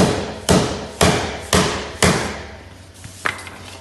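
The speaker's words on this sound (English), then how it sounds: "using the rubber hammer, that'll stop any damage to the wheels." Four evenly spaced, solid thuds from a rubber mallet tapping an AlloyGator rim protector onto an alloy car wheel, followed by a lighter tap, close and fairly loud.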